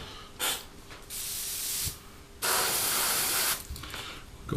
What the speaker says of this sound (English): Now we're going to spray this neat